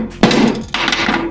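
A hammer knocks tantalum free during a tantalum recovery job, two sharp nearby strikes about half a second apart, each ringing briefly before fading.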